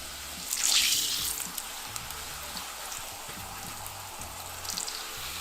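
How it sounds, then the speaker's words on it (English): A corn tortilla fries in hot oil with a continuous crackling sizzle, which swells briefly near the start and then settles into a steady spatter. "To your hot oil, you want to add your corn tortilla, and you're going to cook it on each side for about 5 seconds"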